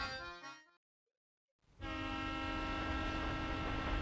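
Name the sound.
train in Professor Layton and the Diabolical Box video game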